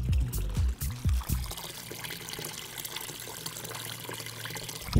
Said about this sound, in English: We have water spilling on all four sides into the trench.